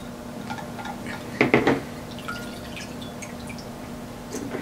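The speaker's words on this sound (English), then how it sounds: "And right now I'm doing the straining process." Hibiscus leave-in conditioner liquid is strained, giving a few scattered drips and soft splashes close up against a quiet, steady background.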